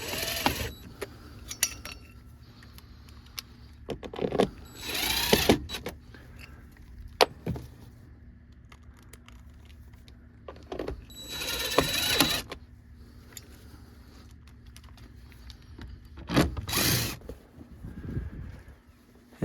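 Screws driven into a blower motor on a 1996-2002 third-generation Toyota 4Runner, with several bursts of screwdriver whirring and scattered clicks and rattles of parts at close range, separated by quieter gaps; no talking.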